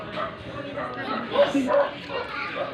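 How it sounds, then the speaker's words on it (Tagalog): A dog yips and barks a few times close by, mixed in with people talking over a busy background. "tapos maingay pa yung aso"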